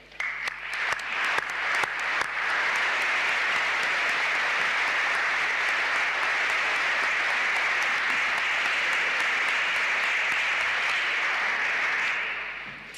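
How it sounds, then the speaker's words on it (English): Applause for graduates at a college graduation ceremony, sparse claps swelling quickly into loud, sustained clapping from a large crowd that holds steady before fading out at the end. "can I now ask for the most important applause of all, for all of you who are graduating here today"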